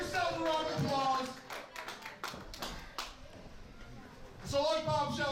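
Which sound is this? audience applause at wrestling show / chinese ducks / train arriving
audience applause at wrestling show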